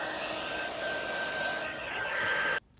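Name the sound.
dryer blowing to dry gold paint on cutting board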